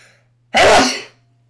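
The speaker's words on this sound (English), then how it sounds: "I'm going to sneeze." One loud, close sneeze bursts out sharply and trails off quickly, against a faint steady hum.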